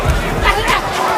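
Crowd noise from a boxing arena after Shakur Stevenson wins a close 12-round decision over Santos, a continuous rumble of voices that fits booing, steady and loud throughout.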